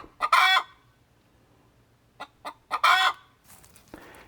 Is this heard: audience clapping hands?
no